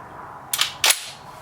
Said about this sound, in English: I say we start with the 175 grain boat tail hollow point front for your munitions at 250 yards